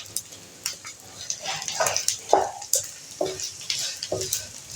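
Crushed gond, an edible gum, frying for halwa, heard as a close sizzle broken by repeated spoon scrapes and stirring strokes in the pan.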